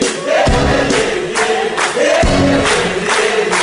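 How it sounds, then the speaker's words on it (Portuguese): Live audience at a radio show singing together in chorus, a loud, sustained wall of many voices with rhythmic swells, recorded close and filling the space without any clear speech over it. "Agora quero ouvir o coral da plateia."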